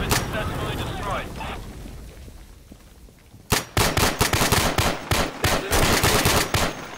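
Insurgency video game gunfire: after a quieter stretch with talking, loud rapid automatic shots erupt and continue in sharp repeated bursts close by, while voices chatter over the action.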